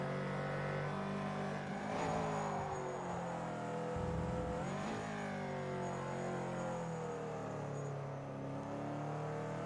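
A race car laps a track in Project Cars 2, its engine droning steadily with a couple of rising throttle pushes and gear changes, moderately quiet, with no voices.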